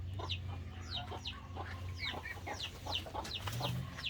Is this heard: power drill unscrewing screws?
no